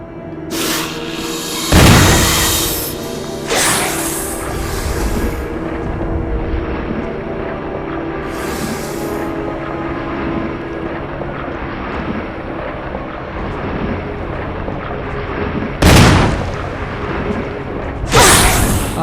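Loud, sharp gunshots from the Resident Evil 1 remake ring out about four times at irregular intervals over a steady, droning game ambience with low rumble.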